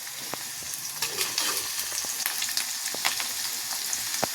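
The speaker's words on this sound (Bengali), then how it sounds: "এখন একটু নেড়ে দিব।" Red amaranth greens fry with cumin in a pan under a steady, close sizzle, while a utensil makes scattered sharp taps and scrapes as they are stirred. No voices are heard.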